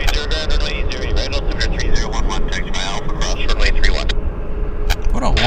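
A Central Mountain Air airplane landing at Vancouver airport, its engine roar a loud continuous rumble close by, with people talking over the noise throughout.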